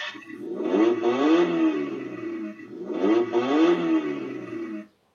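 A BMW Mini electric kids' ride-on car plays its start-up engine sound twice after the power button is pressed, a synthetic revving rumble that swells and fades, then cuts off abruptly.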